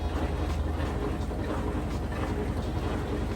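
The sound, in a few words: washing machine spinning at full speed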